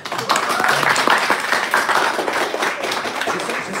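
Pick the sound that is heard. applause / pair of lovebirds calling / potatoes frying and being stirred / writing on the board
applause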